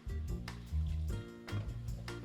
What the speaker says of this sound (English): adds a splash of white wine, followed by 200 ml of tomato passata and the same amount of water.